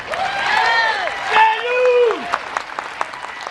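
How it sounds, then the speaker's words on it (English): An audience at a Fair Tax Tea Party rally in Orlando applauds, with whooping cheers rising over the clapping before it thins into scattered claps. "So give him a warm round of applause."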